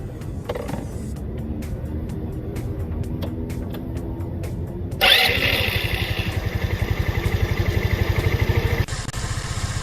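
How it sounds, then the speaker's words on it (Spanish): Clicking and cranking give way to a small scooter engine with a vacuum carburetor catching, then it settles into a steady, rattly idle that continues nearby. "vamos a volver a encender la motocicleta."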